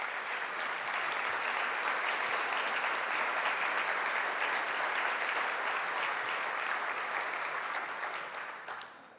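A breakfast audience at a Clare Housing event applauds volunteers who stand to be recognized, a sustained, even wash of clapping that fades slightly near the end, with no voices on top.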